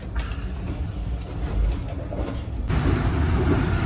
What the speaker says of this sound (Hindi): तो दोस्तों ट्रेन खानेवाल रेलवे स्टेशन पर अराइवल कर रही है